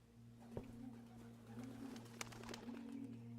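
Doves coo in the video game Blue Prince, soft repeated rolling calls over a steady low hum, with a few faint clicks and taps in between.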